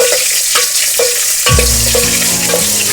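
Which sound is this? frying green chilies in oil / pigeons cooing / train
frying green chilies in oil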